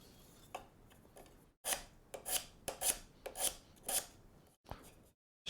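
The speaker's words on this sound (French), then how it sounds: "Hop, je vire bien toute la colle." Excess wood glue wiped off a guitar or bass build in a woodworking shop, a series of short rubbing, scraping strokes in an uneven rhythm, close and fairly quiet with no talking.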